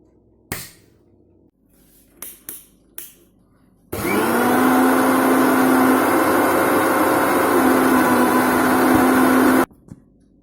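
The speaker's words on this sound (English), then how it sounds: "I'll just run the mixie till everything becomes nice and smooth." A mixer grinder blends chocolate cake batter, starting abruptly after a few scattered knocks and running as a loud, steady whine for about six seconds before cutting off.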